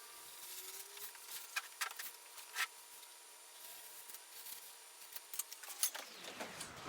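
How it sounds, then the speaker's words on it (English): A sharp blade slices through kiln insulation panels for a wood kiln, producing faint, scattered scratchy cuts and rustling over a low steady hum that fades out near the end. "Having a sharp blade really helps with this."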